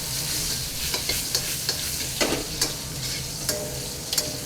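Chow mein noodles fried in a pan: a loud, close sizzle with sharp, irregular stirring scrapes and taps, no voices.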